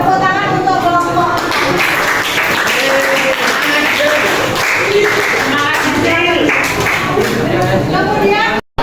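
Students in a Year 9 classroom clap for a presenting group, a dense burst of applause mixed with chatter and voices that runs nearly the whole time before cutting off abruptly.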